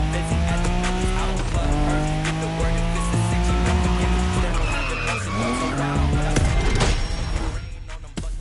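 Quad bike race in the video game The Crew Motorfest, with loud continuous engine whine and tire skidding throughout, overlaid with music, fading slightly near the end.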